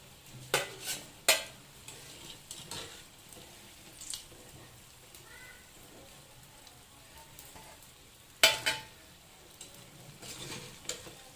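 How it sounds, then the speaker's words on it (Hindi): Hyderabadi minced mutton samosas fry softly in hot oil, a faint low sizzle broken by a few sharp clinks and scrapes as pieces are lifted out one at a time. "1 मिनट के लिए फ्राई करके फिर निकाल लेंगे"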